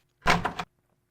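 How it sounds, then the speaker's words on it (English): A door opening in the Maniac Mansion video game, a single short clunky burst with two or three quick pulses, loud and close, then silence. "And now we can go in this last door."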